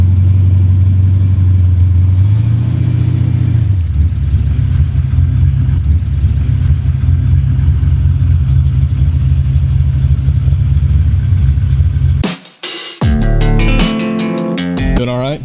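Low rumbling idle of a 406 small-block Chevy V8 in a slammed 1970 Chevy C10 pickup, steady and loud, with a rev change early on before abruptly cutting out near the end.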